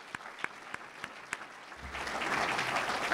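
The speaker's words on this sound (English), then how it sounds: "So if you could all please give them a round of applause for being here." Applause for city staff at a neighborhood awards event starts with a few isolated, fairly faint claps, then fills out into denser steady clapping from a modest audience.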